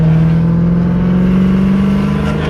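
Supercharged Dodge Challenger pulling hard in 4th gear, a loud, close, sustained engine drone with a steady rising tone and no voices over it.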